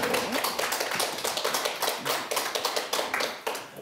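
A studio audience at a Korean health talk show applauds to welcome a fitness trainer, dense, steady clapping from many hands, fairly loud and close, with no talk over it.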